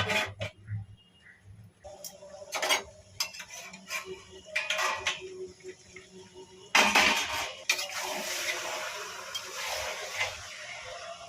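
Metal lid clattering onto a cooking pot of marinated chicken on a gas stove, several sharp clinks of cookware followed by a louder clatter and steady hiss of the burner, close and clear with no talking.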